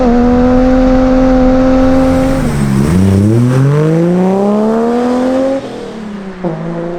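A Ford AU Falcon with an eBay catback exhaust revs loudly and close, its steady drone dipping and then climbing through a long rev before falling back to idle, with no talking.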